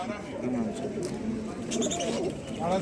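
Pigeons coo steadily in low, throaty calls at an early-morning bird market in Halkalı, Turkey, amid a busy background, with people talking nearby and occasional higher chirps from other birds.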